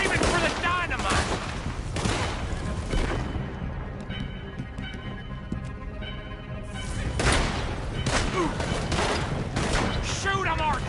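Gunfire in Red Dead Redemption 2 during a frantic shootout over dynamite, with repeated sharp shots and volleys crackling through most of the stretch, loud and close, mixed with shouted voices and crashing impacts.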